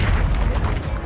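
Confringo blasting curse explosion in the Hogwarts Legacy video game: a brief, loud, low rumbling boom that fills the short moment.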